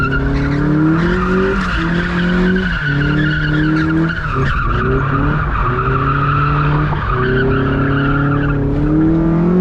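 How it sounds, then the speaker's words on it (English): Tires on a stock Mazda Miata squeal in long, wavering howls as the car slides through turns, loud and close, with engine drone underneath and no talking. "This car is pretty easy to slide."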